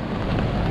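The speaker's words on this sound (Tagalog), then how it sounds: "Talagang hindi tumigil yung ulan." Heavy rain pours steadily during a camping trip at Coto Mines in Masinloc, Zambales, as a dense, continuous hiss close by with no voices.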